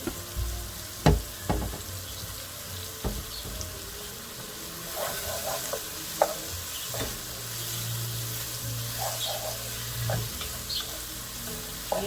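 Beef meat sauce for lasagna sizzles in a pan while being stirred, a steady frying hiss under occasional scraping and clattering spoon strokes, with no talk.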